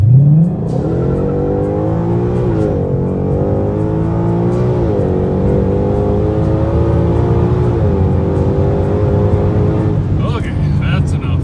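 A 2020 Shelby GT500 launching in drag strip mode with launch control: a loud, close engine roar climbing through the revs in several surging pulls as it shifts, with a voice speaking near the end.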